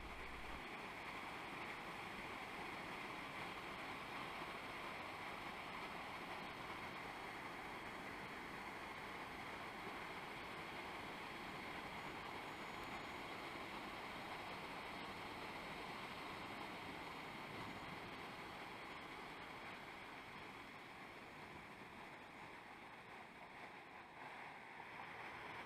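Reservoir spillway waterfall running strongly after recent rain, a constant broad roar of rushing, splashing water heard close and steady throughout, with no voices.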